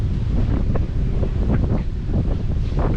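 Breezy outdoor wind on the Norfolk Broads buffets a microphone in a continuous loud rumble, with faint water and boat sounds beneath.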